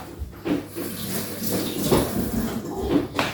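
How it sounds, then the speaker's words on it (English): A tap runs steadily into a sink while a child washes their hands, with splashing and intermittent bumps against the basin close by, with no talk over the running water. "You need to wash your hand."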